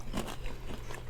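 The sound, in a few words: crunching on hard-fried chicken wings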